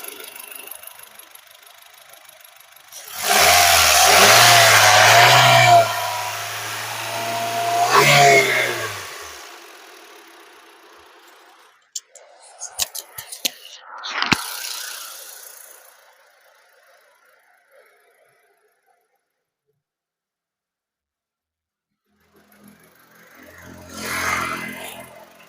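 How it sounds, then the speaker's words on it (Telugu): A petrol motorbike with a golden body and full shield revs hard twice nearby, dies back to quiet, then gives a few short sputters and a final rev after a long pause. "నేను ఇంజన్ అయితే స్టార్ట్ అయితే చేశాను"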